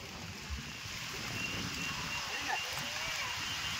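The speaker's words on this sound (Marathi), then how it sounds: "पाऊस पडायला चालू झाला." Rain begins falling on a mountain road beside a valley, a soft, steady, hissing patter heard at some distance. It runs continuously under a low background rumble.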